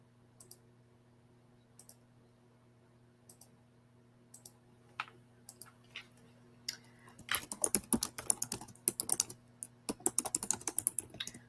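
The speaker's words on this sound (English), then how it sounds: "we're typing in the chat and we're responding" Typing on a computer keyboard: sparse single clicks at first, then dense, rapid bursts of close keystrokes with a faint steady hum underneath.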